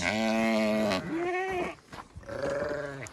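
Sheep bleating near their newborn lambs on a farm, several loud, close, wavering cries in a row, one long call followed by shorter ones, with no speech.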